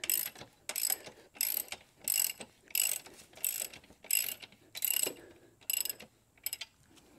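A ratchet wrench loosens the rear axle nut on a Honda Grom, with about ten quick bursts of close, dry clicking separated by short pauses.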